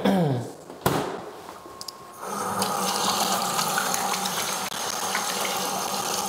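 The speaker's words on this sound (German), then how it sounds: "Also ich wasche gerade meine Hände." Hands being washed under a running tap at a sink: a steady, full gush of water with splashing and rubbing, close and continuous after a brief clatter at the start.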